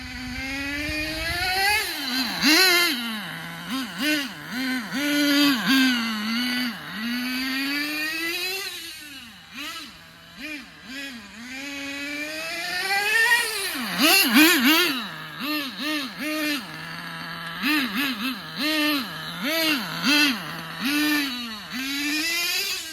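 A Thunder Tiger TS-4n nitro RC car on a driveway, its small engine screaming loud and buzzy as it revs up and down repeatedly, with quick throttle blips and sustained high-pitched runs.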